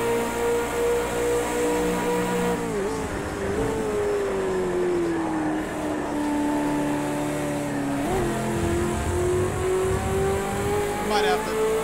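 A V8 Supercar engine in Project Cars 2 at Bathurst drones loudly and steadily for the whole stretch, its pitch dipping and sliding through gear changes, with a voice talking faintly underneath.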